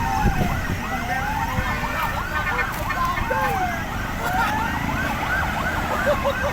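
A fire truck's wailing siren sweeps up and down repeatedly, responding to a burning car at a fuel station in Bay, Laguna, heard at moderate distance over crowd chatter and street noise.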